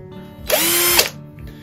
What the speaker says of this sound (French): avec une simple perceuse, comme celle-là par exemple, et la même mèche de 10